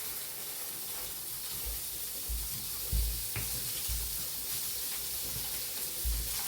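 Food frying in a pan, a steady low sizzle and hiss running throughout with a few soft thumps and stirring knocks, fairly close and continuous, no talk.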